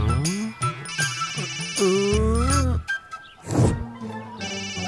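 A mobile phone rings in a Telugu film scene with a loud, melodic ringtone that repeats in tonal phrases for several seconds, close and clear.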